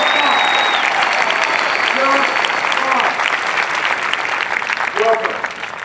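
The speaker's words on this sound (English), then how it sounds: "How about a round of applause for her?" A crowd at an outdoor Air Force basic military training parade in San Antonio applauds steadily and loudly for the whole stretch, with a few scattered shouts and voices rising above the clapping.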